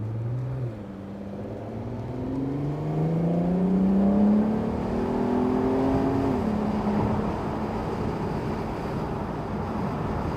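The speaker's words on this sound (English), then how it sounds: "let's hit the gas pedal here." A 2004 Audi TT convertible accelerates with the top down, its engine note rising steadily in pitch for several seconds before easing, loud and continuous with wind and road noise around it.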